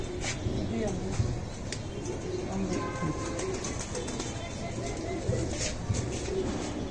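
Pigeons coo softly and repeatedly in a loft, low throaty calls layered over background rustling, with people talking nearby.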